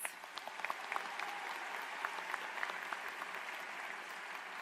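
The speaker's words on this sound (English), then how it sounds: "Please join me in applause once more as we honor these recipients." A graduation audience claps for award recipients, an even, moderately distant wash of many hands applauding with scattered sharper claps, quiet overall.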